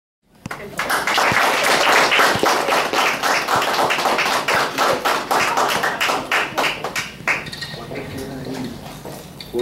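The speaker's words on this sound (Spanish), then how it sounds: "Yo creo que esta ponencia merece un aplauso mucho más efusivo" An audience applauds after a talk at a forum on government benefits for people with disabilities in Puerto Rico, loud, steady clapping of many hands that rises quickly, holds, then thins into scattered claps.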